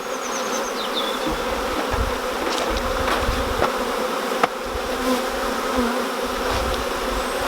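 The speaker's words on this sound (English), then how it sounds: "Any remaining bees will find their way in the hive because the queen's in there now." Honeybees from a nuc being moved into a beehive buzz steadily and densely throughout, a continuous close swarm drone with individual bees passing near, outdoors with no talk.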